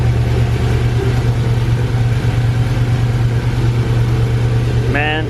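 A Ford Mustang Fastback with a swapped Coyote engine, a project car started cold, runs loud and close with a steady rumbling idle that holds throughout, with a brief higher tone right at the end.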